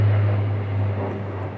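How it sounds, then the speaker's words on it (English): A huge military airplane flying overhead produces a loud, steady low engine drone with a broad roar above it, holding constant through the whole short stretch with no talk. "That's a huge military airplane."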